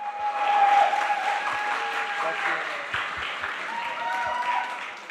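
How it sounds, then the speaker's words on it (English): Steady applause from a conference audience at a hackathon organizers' event fills the room for several seconds. A voice speaks over the clapping. "Give her a huge round of applause."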